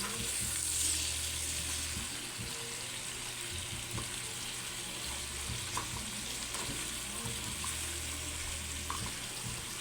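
Pork humba stirred in a pan, a steady close sizzle with intermittent scraping and stirring clinks over continuous frying noise.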